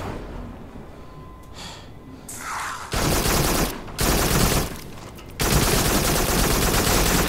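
Hip-fire gunshots ring out in the VR shooter game Farpoint on PSVR, loud dense bursts of rapid fire that cut in and out in several blocks, close and harsh, with a few breathy sounds between bursts.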